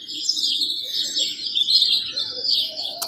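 Recorded forest birdsong played from an alarm clock's built-in ambient sounds: steady high chirps and trills, bright and continuous, with a soft background hum underneath.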